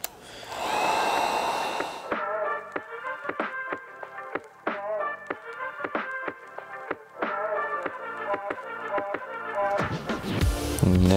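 A heat gun blows a steady, loud whoosh for about two seconds while sealing the tint film edges on a 2020 Toyota Highlander taillight, followed by a run of quick taps and rubbing clicks, then a brief return of airflow.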